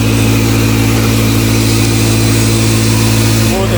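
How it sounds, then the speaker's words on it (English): A supercharged Lotus 2-Eleven with a K-swap engine runs steadily and loud up close, its droning engine tone holding for the whole stretch with a faint shift near the end. "Yeah, you hear that supercharger right there."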